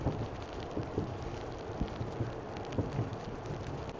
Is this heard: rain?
yes